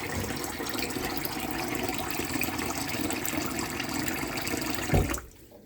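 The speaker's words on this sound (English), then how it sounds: "At least fill it up with water and get it soaking." Tap water runs steadily into a mixing bowl, a continuous broadband splashing rush at close range that cuts off abruptly near the end, leaving near silence.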